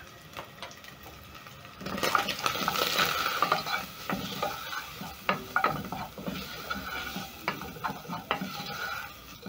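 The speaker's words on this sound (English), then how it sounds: "Notice that the spices are coating the meat, so I'm going to keep on stirring as the meat cooks." Beef chunks coated in paprika, black pepper, garlic powder and turmeric being stirred in a cooking pot, with a steady sizzle and irregular scraping, clicking spoon strokes that swell after the first couple of seconds.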